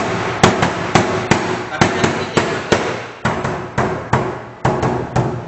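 A traditional Minangkabau percussion instrument struck in a steady run of sharp hits, about a dozen in five seconds, swinging between louder and softer strokes, close and resonant with a faint voice in the background.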